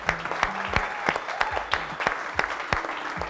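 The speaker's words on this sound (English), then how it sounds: "Can we have a round of applause for them, please?" A modest audience claps for two vehicle-wrap contestants in the finals of a wrapping competition: sparse, individually distinct claps and thumps at close range, rather than a dense roar.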